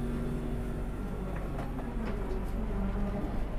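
The Gajah Wong passenger train rumbles steadily into Lempuyangan station, Yogyakarta, with low-frequency engine drone and occasional metallic squeals and clanks, a continuous mechanical hum filling the whole stretch.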